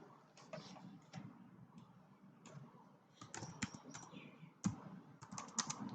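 Fingers type on a computer keyboard at close range, with irregular clusters of light key clicks and a few harder taps and pauses between them.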